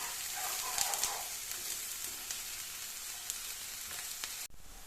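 Steady, bright sizzling of sliced onion frying in a hot pan, continuous and close, with faint crackles, ending abruptly.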